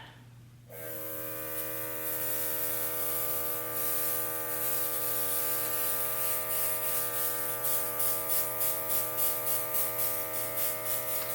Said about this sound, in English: And you pump the trigger. You don't just hold it down and spray.